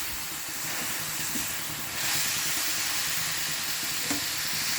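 Food sizzling and hissing in a hot pan, with occasional scraping of a spoon stirring it; steady and close.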